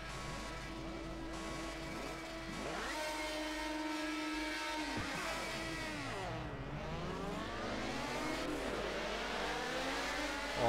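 Historic race cars in the racing game Project Cars launching at a race start, a dense layered chorus of engines revving and rising in pitch, with repeated gear-change drops and overlapping cars, steady and fairly loud.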